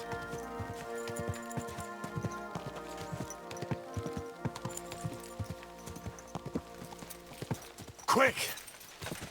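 Steady clip-clop of horse hooves trotting in the video game Kingdom Come: Deliverance II over background music, ending with a louder, noisier burst near the close.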